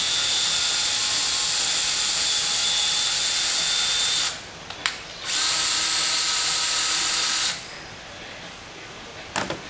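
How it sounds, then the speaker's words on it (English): A combination drill, tap and deburr tool whines steadily while cutting a thread into PVC pipe, loud and close, stopping briefly twice before cutting out near the end. "this is a combination drill, tap, and deburr tool"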